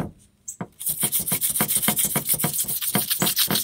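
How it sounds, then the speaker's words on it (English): The edge of a tile is scuffed by hand with very light pressure, giving about a dozen short, crisp rasping strokes in a steady back-and-forth rhythm, close up and with no talking. "I'm just taking this and scuffing up the edge."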